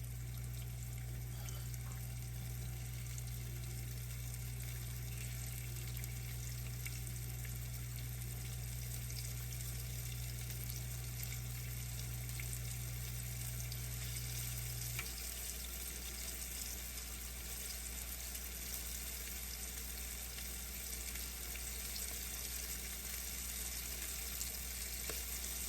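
Beef cube steak sizzles steadily in a hot pan, a dense continuous hiss and crackle throughout with no talking, and a low steady hum that drops out partway through.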